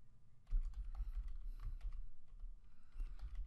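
Typing on a computer keyboard while entering a function name in an Excel spreadsheet: a steady run of soft, close keystrokes over a low background hum, with no talking.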